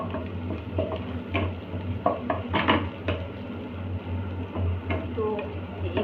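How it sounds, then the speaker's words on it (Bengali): Onions frying in a pan for a home-cooked mutton dish, with a steady low sizzle and intermittent scraping and clinking as they are stirred, fairly close and continuous throughout. "এবার আমি যে পেঁয়াজটা ভাজা বসিয়েছিলাম না, সেটাই দেখো কিছুটা হয়ে গেছে।"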